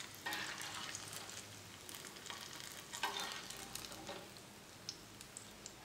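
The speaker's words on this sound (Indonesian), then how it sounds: "Terus kita gunain buat goreng cilor yang lainnya." Cilor, rolled tapioca-flour snacks on skewers, frying in hot oil in a home kitchen, giving a continuous soft sizzle and crackle with occasional sharper pops and stirring clicks, fairly quiet and with no talking.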